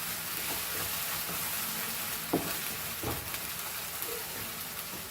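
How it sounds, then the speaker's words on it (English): Masala for Goan pork sorpotel frying in a pan gives a constant close hiss and sizzle, broken by a few soft stirring scrapes, with no talking. "Fry this masala."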